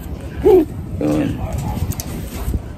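Racing pigeons back from a race coo close by, one clear throaty coo early on followed by softer cooing and rustling, with people talking over the birds.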